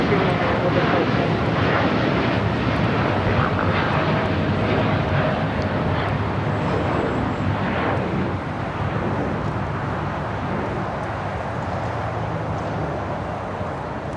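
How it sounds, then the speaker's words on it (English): A Japan Airlines Boeing 787-9 Dreamliner roars steadily as it takes off from LAX, a loud, broad jet rumble that holds for the whole stretch and tapers slightly toward the end. "This is Japan Airlines Flight 69 taking off to Osaka on the 787-9 Dreamliner."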